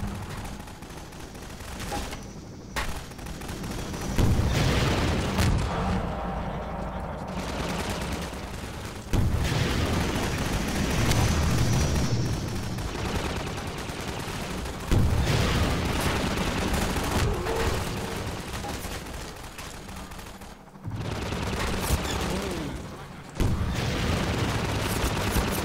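Sustained bursts of gunfire ring out through a Half-Life 2 fight against a combine gunship, with dense fusillades and heavy booms stacking in a continuous, loud barrage with only brief gaps.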